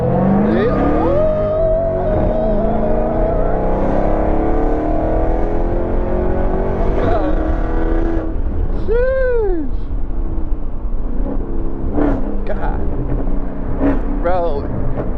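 A Dodge Hellcat accelerates and revs hard during a drifting and wheelie session, its engine note sweeping up and down in repeated surges beneath near-constant conversation from people riding along.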